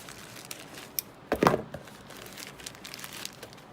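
Plastic wrapping on an Artisaire wax seal package crinkles as it is opened with scissors, a brief loud rustle in the middle amid softer handling noises, close and alone.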